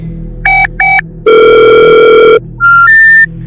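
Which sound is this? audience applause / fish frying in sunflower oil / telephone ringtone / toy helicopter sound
telephone ringtone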